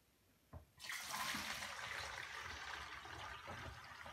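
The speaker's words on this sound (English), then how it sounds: "And then pour it in this jar." A light knock, then liquid clay slip for terra sigillata poured steadily into a clear glass jar, a continuous close splashing pour that stays fairly quiet.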